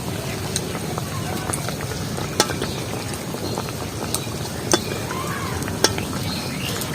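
Palm-fruit malpua frying submerged in hot oil makes a continuous bubbling sizzle, with a few sharp clicks and taps on top. A voice talks faintly in the background.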